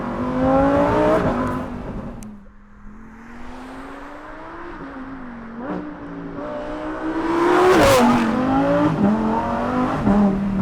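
A supercar engine accelerating hard on a race track roars loudly, its pitch climbing, dipping briefly, then surging again through rising revs and quick gear changes.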